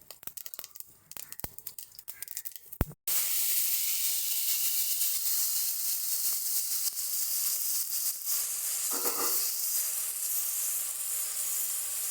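Mustard seeds hit hot coconut oil in a pan while a Kerala-style thoran is being cooked. After a few clicks and knocks comes a sudden loud, steady sizzle that hisses on for about nine seconds.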